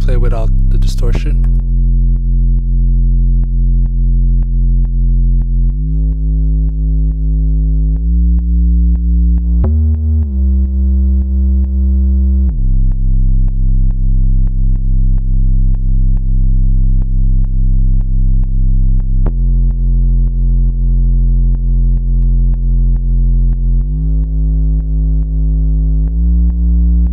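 A synthesized music track plays cleanly without distortion, holding steady sustained tones that shift pitch in blocks, loud and continuous, with a brief percussive burst at the start.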